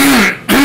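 A single short, loud throat-clearing cough, close to the listener.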